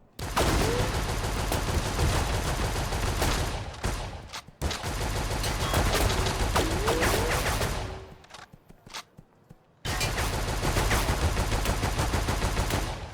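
Sustained automatic gunfire in the video game Cash Guardian, loud rapid bursts that break off briefly around four seconds, fade to near silence after eight seconds, then resume full force.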